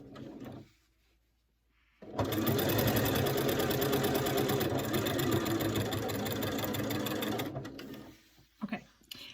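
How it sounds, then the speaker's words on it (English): A sewing machine stitches across a quilt binding corner, running in one steady, rapid burst of about five seconds between quieter handling moments. "what I'm going to do is angle and sew from the corner of this top piece to the corner of this bottom piece"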